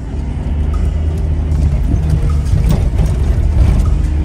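A four-wheel drive vehicle crawls along a rough track from Mount Norman Road, heard from inside with a steady low engine rumble and faint bumps and rattles throughout.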